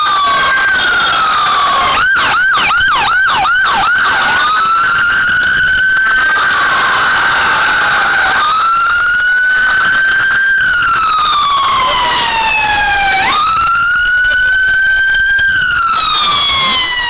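Loud, close fire brigade sirens at a car fire in Al-Fahaheel, Kuwait, starting with a rapid warbling yelp and then shifting into long rising and falling wails that continue without pause.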